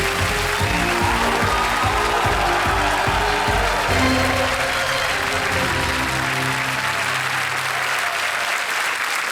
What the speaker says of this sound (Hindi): Big hand for Sharmishtha day.